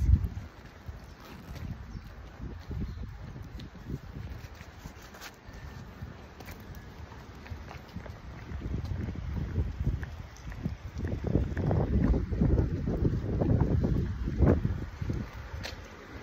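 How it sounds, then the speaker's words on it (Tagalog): Strong wind buffets the microphone with low rumbling gusts, growing louder and more forceful in the second half. "Sobrang lakas ng hangin."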